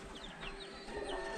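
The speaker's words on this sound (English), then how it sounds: "Have some different kind of chickens." Several kinds of chickens clucking in a Jamaican countryside yard, a soft, continuous chatter of short calls running steadily under faint ambient noise.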